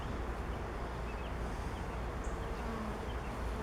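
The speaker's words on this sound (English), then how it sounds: "I want to just brush the bees gently" A dense, continuous buzz of many honey bees on a hive comb, close together, steady and unbroken throughout.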